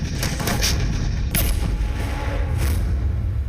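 Heavy, rumbling booms of an Indian Army towed howitzer roll continuously, with a sharper blast near the middle and another toward the end, loud and dense with no voices.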